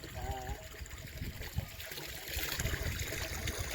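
Water runs from an opened tap outdoors in a steady rushing trickle, close and fairly loud, with a brief voice-like tone at the start.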